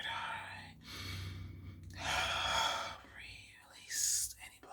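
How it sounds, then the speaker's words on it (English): A deep breath in a whispered ASMR chakra-healing chant, with long airy breathy swells between soft whispered phrases, close and quiet. "Take a deep breath."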